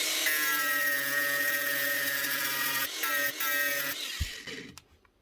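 A power tool grinds steadily through a metal spindle thread during a repair, a loud continuous whine that drops out briefly, resumes, then cuts off and spins down to quiet.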